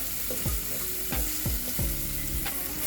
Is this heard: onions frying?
yes